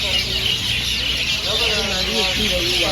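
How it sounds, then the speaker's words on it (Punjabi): A dense, steady chorus of sparrows chirping fills the background at Gurdwara Nada Sahib while someone talks over it in the second half. "ਚਿੜੀਆਂ ਵੇਖੋ ਕੈਂ ਕੈਂ ਸੁਣੀ ਜਾਓਗੇ"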